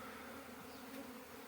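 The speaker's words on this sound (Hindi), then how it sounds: "अब जितनी भी मधुमक्खी है वो सारी उड़ चुकी" Honey bees fly about after their hive is broken open, a faint, steady, even buzzing hum from many wings that continues without a break.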